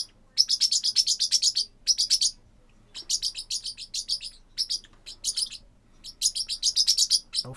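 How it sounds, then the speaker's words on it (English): Small birds chirp and tweet in rapid, bright bursts, several flurries of quick calls separated by short pauses, fairly close and clear over a quiet low hum, set during a Hearts of Iron IV strategy game session. "My birds are going to chirp."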